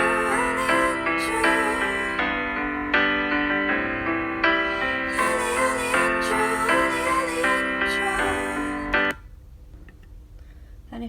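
Isolated high-harmony backing vocal track from a recorded second chorus, a sustained sung line with held vowels and shifting pitch played back clearly for about nine seconds before cutting to near silence.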